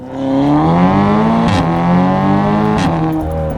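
A tuned Audi S3 making 410 wheel horsepower with a 4-inch decat downpipe pulls hard in first gear from 4,000 RPM, its loud close engine note climbing and wavering, with two sharp crackling pops partway through.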